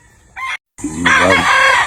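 A short rooster call breaks off, then a loud, close crow follows immediately.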